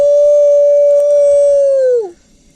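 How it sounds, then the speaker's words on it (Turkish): A single wolf howl rises near a mountain campsite at night, a long, loud, steady tone that holds then bends down and fades out, with faint background noise after. "Kurtlar rahatsız oldular herhalde bizden."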